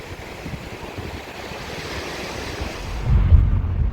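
Ocean waves at Dar Bouazza beach on the Moroccan coast, a continuous low surf rumble with some wind buffeting, building toward a heavier close wash near the end.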